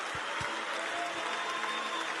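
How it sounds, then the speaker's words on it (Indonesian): A church congregation applauding together during a service, a dense, steady wash of many hands clapping at a fairly even loudness, with a few low thumps near the start. "Bisa kasih tepuk tangan lagi Bapak Ibu."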